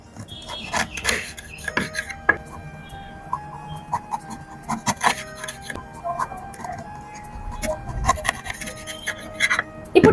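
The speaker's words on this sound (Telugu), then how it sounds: "ఇప్పుడు ఏం చేయాలంటే టమాటా క్యాప్సికమ్ కట్ చేయాలి" A knife cuts tomato and capsicum into thin rounds on a board, giving a run of soft, irregular taps and short scraping slices, close and fairly quiet.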